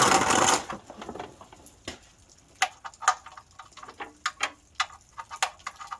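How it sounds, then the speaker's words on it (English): A ratchet loosens the oil drain plug under a 2006 second-generation Toyota Tacoma. An opening burst of noise is followed by a run of sharp, separate clicks and ticks at an irregular pace, close and alone. "I'm just going to loosen up the oil plug"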